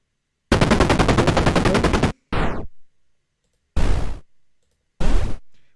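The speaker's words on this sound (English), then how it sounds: "makes different variations of the explosion, which is very nice" Synthetic explosion bursts made with the JFXR sound effect generator play one after another: a long rattling blast, then three shorter noisy booms separated by silence.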